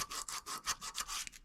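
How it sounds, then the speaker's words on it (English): Sandpaper rubs over a surface on a 1984 Honda CT-110 motorcycle in quick, even back-and-forth strokes, about eight rasping passes in under two seconds, close and fairly quiet. "I'm going to clean this surface off real quick with the sandpaper"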